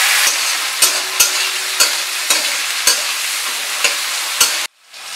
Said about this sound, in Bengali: টমেটোটাকে ফ্রাই করে নিলাম 1 মিনিট।